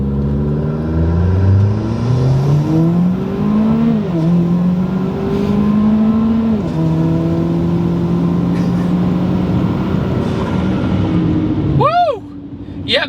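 A 300 hp Buick Encore accelerates hard with traction control off, its engine note climbing through several gear shifts over road roar, while a voice talks inside the car.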